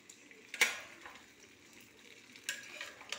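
Roasted potatoes tumble into a pan and are stirred, a sharp clatter of food and utensil followed by soft scraping and a second stir near the end, all close and fairly quiet.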